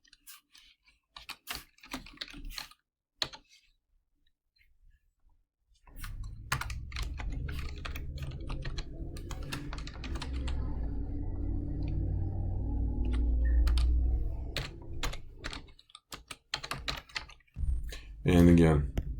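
Bursts of rapid clicking keystrokes on a computer keyboard while entering a polynomial, close and crisp, alternating with quiet gaps and a stretch where someone speaks over the typing.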